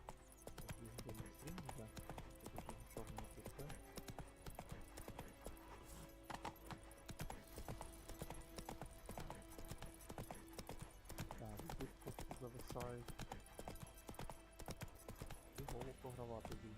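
Roach the horse's hooves clip-clop in The Witcher 3, a steady trotting rhythm under game music and speech-like sounds, with an occasional neigh.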